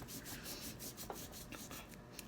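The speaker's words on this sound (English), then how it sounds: "So I'm just going to rub all over the eyes" A cloth rubs paint over the eyes of an owl figure to distress it, making a faint, steady scratchy rubbing at close range with no talk.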